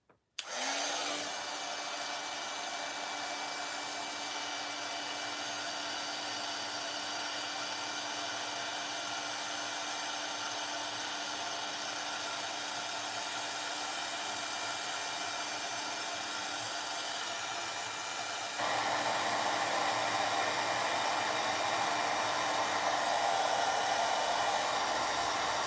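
Heat tool melting embossing powder, a continuous loud blowing whoosh that kicks on abruptly and runs steadily, shifting to a slightly louder, brighter tone in the final stretch.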